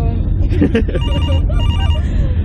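A telephone rings in a lively indoor scene from a comedy movie, its repeated electronic bell tone running steadily over a dense background of voices and laughter, fairly loud and close.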